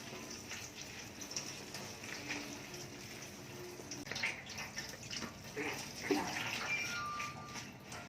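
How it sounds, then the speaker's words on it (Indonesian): Quiet, steady rush of running tap water with faint splashing and clinks as chilies are rinsed underneath. "kita cuci dengan air mengalir ya teman-teman."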